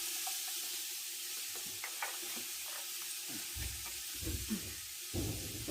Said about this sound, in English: We're just going to saute that until the onions are nice and cooked.